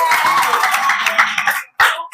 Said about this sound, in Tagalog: Palakpakan muna tayong lahat.